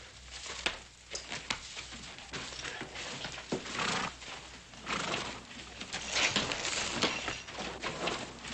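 A horse moves noisily nearby, hooves clopping and shuffling amid rough background noise, with a brief whinny.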